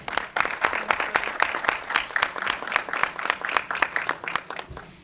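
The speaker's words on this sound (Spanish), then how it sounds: "Un aplauso, por favor." A forum audience gives a brief round of applause for a speaker, scattered distinct claps in an uneven rhythm at moderate volume in a hall.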